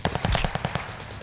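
Automatic gunfire in the online shooter Call of Duty: Vanguard, a rapid burst of roughly eight evenly spaced shots in hardcore multiplayer, loud and close, quickly tailing off.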